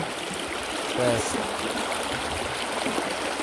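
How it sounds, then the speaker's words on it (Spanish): The Jalalá river flowing steadily, a constant broad rush of stream water heard nearby, with someone speaking Spanish briefly over it. "Está lo bonito acá en el río Jalalá"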